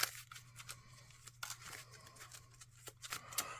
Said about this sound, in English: Now let's shuffle my deck